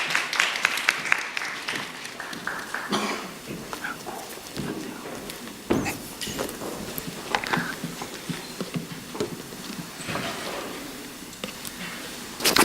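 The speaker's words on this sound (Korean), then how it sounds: "큰 박수로 맞아주세요." An audience at a student research presentation by a materials science department gives a round of applause, steady clapping at moderate distance lasting around twelve seconds with small swells.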